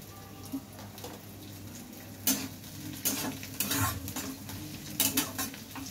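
Chopped green chili frying with flattened-rice pulao in a pan, a soft steady sizzle with several bursts of spatula stirring and scraping against the metal.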